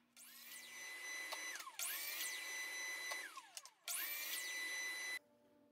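Miter saw cutting support pieces to length against a stop block, three separate cuts each with a high whining spin-up, sustained loud cutting and a falling coast-down between, near and with no talk.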